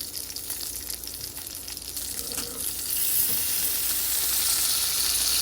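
Pointed gourd fries in a little oil, giving a steady, dense sizzle that thickens and grows louder partway through, a continuous hiss with no voices over it.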